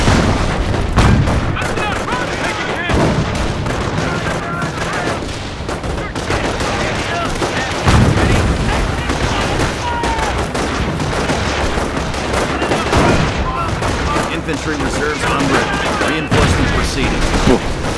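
Continuous gunfire and artillery booms from a World War II battle in the strategy game Company of Heroes, dense overlapping shots and blasts throughout, with a voice speaking over the battle.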